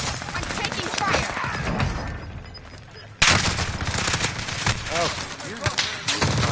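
PS4 video game gunfire with rapid bursts and sharp shots over a dense game soundscape, and a player's voice calling out over the action.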